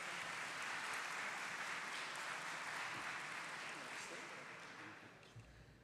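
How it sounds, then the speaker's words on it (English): Audience applause for a speaker after a corporate tax talk, a dense steady clatter of many hands in a hall that gradually fades over several seconds. "A big round of applause for our speaker."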